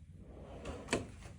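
A drawer in a clinic sterilization room opens or closes with a faint, quick pair of soft knocks and a slide, heard alone against quiet room tone.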